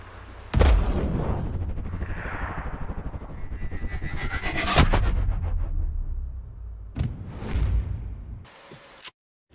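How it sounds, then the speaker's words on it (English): Gunfire in the video game Sniper Ghost Warrior Contracts, with several loud, sharp shots and booming blasts separated by rumbling echoes and whooshes. "Shots fired! Shots fired!"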